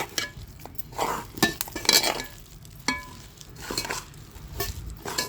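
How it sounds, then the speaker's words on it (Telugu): A spoon stirs jujube pickle mixed with Kakinada chili powder in a metal bowl, giving close, irregular scraping and clinking strokes with short pauses between them. "మన కాకినాడ కారంలో శుభ్రంగా కలిపేసుకోవటమే"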